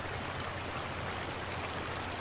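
A river flows near a viaduct in a Welsh country park, a steady, soft rushing wash of water with no pauses, heard alone at a moderate distance.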